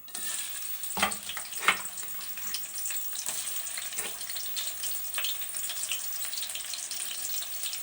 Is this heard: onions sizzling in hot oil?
yes